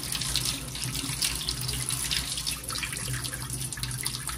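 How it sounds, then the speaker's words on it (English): Dishes are rinsed under a running kitchen tap, a steady close hiss of flowing water splashing into the sink, with no talk. "We're just gonna rinse these."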